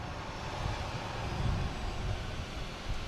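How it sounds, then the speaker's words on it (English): Airliner engines rev up on a runway at Boston Logan airport, a distant, broad, steady roar with a low rumble that swells slightly mid-clip, faint and continuous. "I hear the engines revving up."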